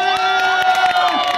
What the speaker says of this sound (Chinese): 热烈掌声！